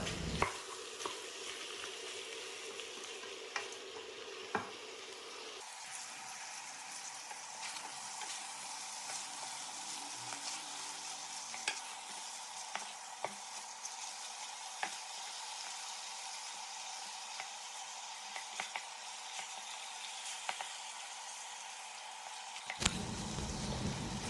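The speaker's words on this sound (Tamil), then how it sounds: "இந்த மட்டன் பீஸ் எல்லாம் ஒரு 6லேருந்து 8 நிமிஷம் அந்த வெண்ணெயிலேயே ரோஸ்ட் ஆகணுங்க." Mutton pieces roasting in butter over moderate heat, a steady gentle sizzle with scattered spoon scrapes and clicks as they are occasionally stirred, close, no talking.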